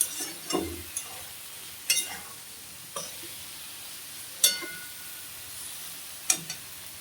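A spoon stirs katla fish oil with turmeric and salt in a pan, giving soft scattered scrapes and light clinks over a faint background sizzle, spaced every second or so.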